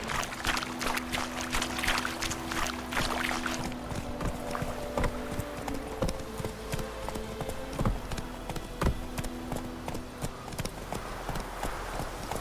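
Hooves of the horse Roach in The Witcher 3, a steady close clip-clop of a walking gait repeating throughout over soft ambient background.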